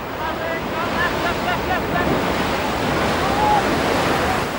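Ocean surf washes in a steady loud roar while a paddler heads out to catch a wave, with wind buffeting the microphone throughout and no voices.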